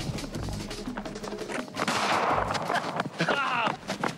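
A net gun fired at people outdoors during python hunting in Africa gives a sharp burst, followed by rustling and commotion with voices shouting nearby.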